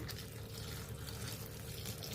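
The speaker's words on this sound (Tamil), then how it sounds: "சுடு தண்ணியை ஃபில்டர் பண்ணதுக்கப்புறம் இதில் கொஞ்சம் பச்சை தண்ணி சேர்த்துக்கிறேங்க." Water pours steadily in a continuous splashing stream, close and even, with no voices.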